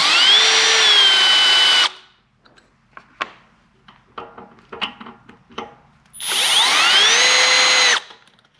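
A power driver whirs loudly in two sustained bursts, rising in pitch, while backing out T30 Torx screws from the carburetor of a Briggs & Stratton Industrial Plus engine that sat for 31 years; softer clinks and handling noises fill the gap.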